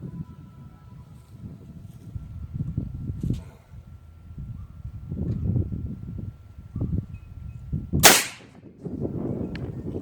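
An air cannon fires a 20 gauge shotgun slug with a single sharp, loud crack near the end, standing out against quiet background rustle.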